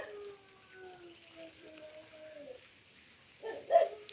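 A dog barks in a short burst near the end, fairly close, on a rural farm with rain beginning to fall over the fields and quiet background before it.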